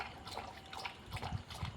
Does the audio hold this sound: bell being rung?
no